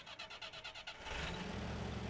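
A MudRunner off-road truck engine cranks in a quick pulsing rhythm for about a second, then gives way to a loud, steady rumbling roar; no one talks.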